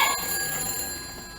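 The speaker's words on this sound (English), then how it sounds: "the phone" A telephone bell ringing during a stage play of It's a Wonderful Life, a continuous bright metallic trill that starts loud and fades slightly over a second and a half, with no talk over it.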